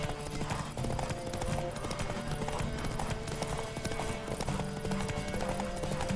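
Horse hooves gallop in The Witcher 3, a steady rapid clip-clop that runs unbroken and fairly loud throughout, layered over sustained tonal in-game sound.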